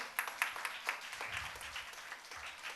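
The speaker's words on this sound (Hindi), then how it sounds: "जोरदार तालियां बजनी चाहिए।" Scattered handclaps from an audience at a school annual day function in Chennai, faint and somewhat distant, with irregular bursts of clapping that continue steadily throughout.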